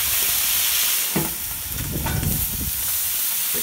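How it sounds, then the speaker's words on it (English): Water hisses and sizzles on a hot Camp Chef flattop griddle, a steady steamy crackle with a louder bubbling burst in the middle, close and continuous, with no talk. "We're gonna go ahead and put some water, get a steam effect on there."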